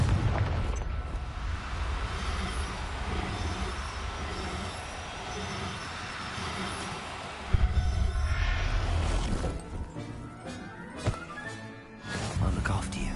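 A Confringo blasting curse detonates in the Hogwarts Legacy video game, a sudden loud burst amid a dense rumbling game soundscape, followed by scattered crackles and debris as it fades.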